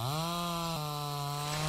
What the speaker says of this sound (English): I just kind of want to try the chainsaw on a tree.